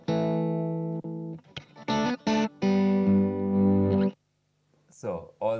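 An electric guitar played through an AMP1 amplifier rings out in sustained, effects-laden chords and notes, with a short pause before a final strum.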